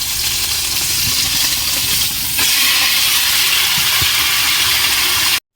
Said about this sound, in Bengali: মাছটা আমার দুই পাশে ভাজা ভাজা হয়ে গেছে,